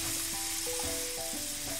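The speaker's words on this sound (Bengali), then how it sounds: "এখন সব মশলা ভালো করে কষিয়ে নেব।" Spices with turmeric, salt and a splash of water fry in a pan for a dried fish bhuna, making a brief, soft, even sizzle with faint stirring.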